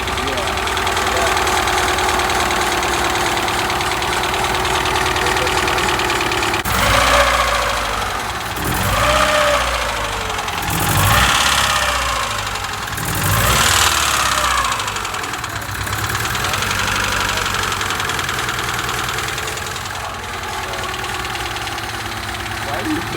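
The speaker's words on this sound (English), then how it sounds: "I know she sounds a little loud, but these D16Y8 heads, as you guys may possibly know, are typically very loud." A rebuilt Honda D15B engine fitted with a D16Y8 head idles loudly and steadily with a ticking clatter, rising in a few short revs midway; voices talk over it.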